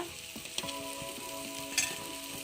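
Crab curry with salt and chili cooks in a pan, sizzling steadily while a spoon stirs and scrapes it in a few distinct strokes, with a brief sharper clink near the end, close up and with no talking.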